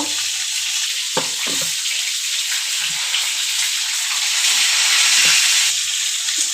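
Fish sizzles and fries in a hot pan with a loud, constant hiss and crackle, broken by occasional soft clinks and stirs, with no talking.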